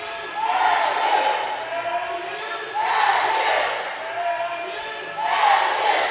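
Spectators at a collegiate acrobatics and tumbling meet, Lander versus Montevallo, chant and cheer in three rising, sustained surges of crowd voices, loud and fairly close, each swell fading slightly before the next.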